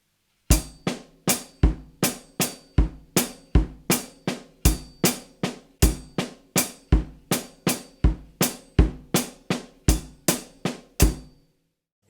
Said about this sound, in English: Now playing the whole groove will sound like this.